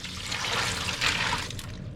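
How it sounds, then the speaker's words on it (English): Water poured over ice and salt in a container to chill beer, a steady broadband rush of running and splashing liquid filling the whole two seconds at close range, with no talk. "You want to fill up that water"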